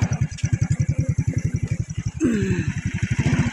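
A small motorcycle engine putters close by with a fast, even thumping beat while a learner rides it. The engine note rises briefly midway as it revs.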